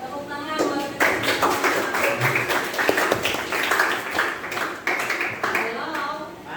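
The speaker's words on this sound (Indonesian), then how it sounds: "Tepuk tangan buat" Classroom group clapping during an academic supervision session, loose uneven claps at close range with voices mixed in and some scattered taps.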